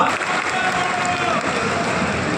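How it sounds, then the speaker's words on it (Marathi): A large crowd at a political rally in Nashik claps, a dense, steady wash of applause filling the space, with a little cheering blended in. "जोरदार टाळ्या वाजून त्यांचं स्वागत करूया"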